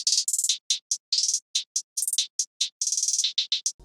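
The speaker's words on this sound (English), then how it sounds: "which are just 2 hi-hats layered together" Two layered trap hi-hat samples play a rapid, uneven pattern of crisp, bright ticks with quick rolls and gaps, loud and dry with no talk.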